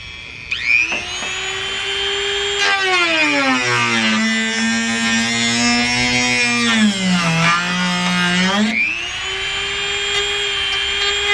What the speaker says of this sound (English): So I bought me a small Dremel for like 50 bucks.